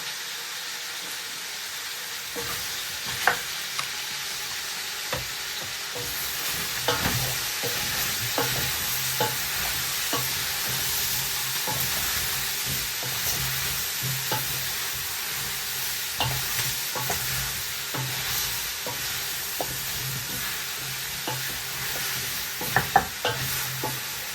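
Oxtail browning in a pot for soup, a constant sizzle and hiss with repeated scraping and clinking stirs throughout, close and moderately loud, no voices.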